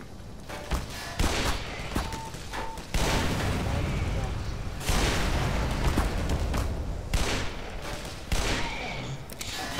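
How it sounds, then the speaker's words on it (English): Rapid gunfire and booming explosions fill a combat scene in the video game Black Mesa on hard mode, dense overlapping bursts that pile up continuously. "Are they shooting missiles at me?"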